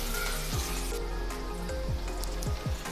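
Garlic and green chillies sizzle and crackle in hot oil for a traditional Maharashtrian dill (shepu) vegetable dish, a steady close frying hiss with occasional soft stirring scrapes and no talking.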